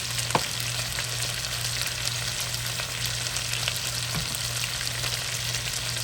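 Beans in a pot are stirred during cooking, giving a constant close sizzle with a couple of soft spoon knocks and no talking.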